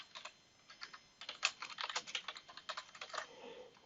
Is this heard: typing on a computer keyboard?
yes